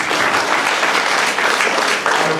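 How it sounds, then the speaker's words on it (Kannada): Loud, dense applause from an audience at a trust's honouring ceremony, steady continuous clapping from many hands filling the whole stretch without a break. "ಜೋರಾಗಿ ಚಪ್ಪಾಳೆ ಬರಬೇಕು."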